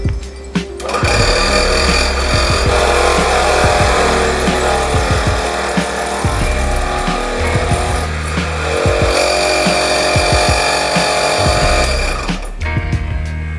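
A scroll saw cuts through a plastic sheet, giving a loud, steady buzzing drone with a rapid reciprocating rattle that runs almost without a break for about twelve seconds and then stops.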